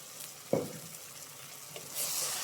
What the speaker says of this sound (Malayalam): നന്നായിട്ടൊന്ന് ഇളക്കുക.